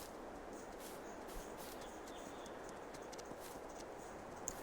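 Horse hooves clip-clop in the Farming Simulator 22 video game, a faint, light series of hoof taps over a steady, airy background.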